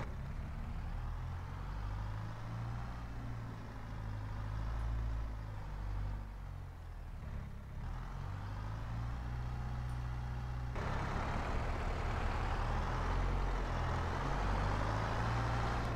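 A skid steer in Farming Simulator 22 scrapes up grass and mixed ground while paving a driveway at an abandoned house, a steady low engine drone with heavier mechanical grinding swelling louder toward the end.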